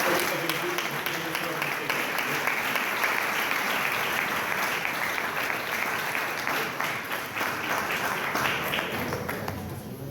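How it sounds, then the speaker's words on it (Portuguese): A church congregation applauds their pastor, Fernando Lopes, with a broad, continuous roar of clapping that stays full and even throughout before tapering off slightly at the very end. "Eu gostaria que a igreja aplaudisse o servo do Senhor."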